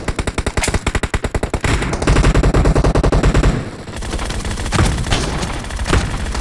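Rapid automatic gunfire in Battlegrounds Mobile India, played on a Poco X3 Pro phone, loud and close, starting as a rhythmic burst of distinct shots, then merging into dense overlapping fire before scattered shots continue.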